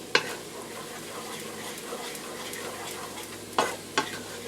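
Turmeric and vegetables being stirred in a soup pot for curry potato leek soup make a steady soft sizzle, with a few sharp utensil scrapes against the pot at the start and near the end.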